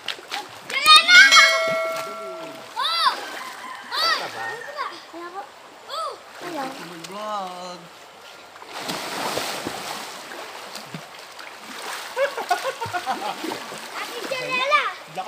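Strong flowing water rushes and splashes nearby in a rural stream, a broad continuous wash under frequent voices of children and adults talking and calling out.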